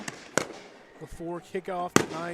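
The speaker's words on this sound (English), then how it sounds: "If you hear fireworks in the background" Sharp fireworks bangs go off a few times at a high school football game before kickoff, under a nearby announcer's voice.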